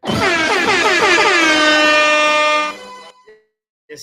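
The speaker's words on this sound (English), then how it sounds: "I didn't mean to put the air horn in there" A loud, blaring air horn sound effect blasts with a rich stack of harmonics, holding steady for about three seconds before cutting off, followed by a brief pause and a short burst at the end.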